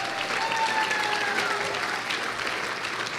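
An audience at an evening charity event bursts into steady, dense applause, a continuous wash of many hands clapping at moderate distance throughout.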